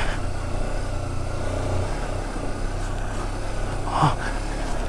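A motorcycle engine drones steadily while climbing a slippery, steep uphill trail in first gear, close by, with a brief sharper rev near the end.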